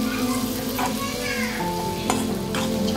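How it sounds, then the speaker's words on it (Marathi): Fried eggplant with turmeric, salt and coriander is stirred in a hot pan for Khandeshi-style baingan bharta, a steady sizzle under close scraping and clinking of a utensil against the pan. "आता आपण त्याच्यात हळद, चवीनुसार मीठ घेतलेलं आणि कोथिंबीर टाकूया आणि ते हलवून घेऊया"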